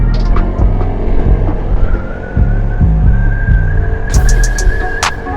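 Aprilia SR GT 200 and Honda ADV 160 scooters in a drag race, their engines giving a continuous throbbing drone with a rising whine and a few sharp clicks near the end.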